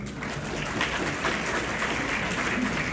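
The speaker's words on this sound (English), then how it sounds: "Can we begin with a round of applause for our awesome MC tonight?" Applause fills a gala dinner hall, a dense burst of clapping from a seated crowd that stays steady for the short stretch.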